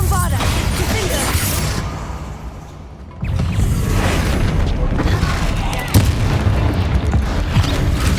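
Bombarda blasting spell explosions in the Hogwarts Legacy video game, with loud booming bursts over a dense game soundscape, a brief lull near the middle and a sharp new blast about six seconds in.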